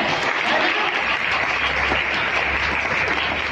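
An audience in a Full Gospel church in Bhilai applauds steadily and loudly for a few seconds, a dense continuous clapping with no speech over it.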